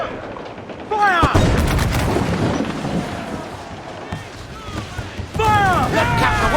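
Repeated heavy cannon booms from a pirate ship's broadside volleys in Assassin's Creed IV Black Flag, loud bursts with echoing crashes and a crew shouting orders over the battle noise.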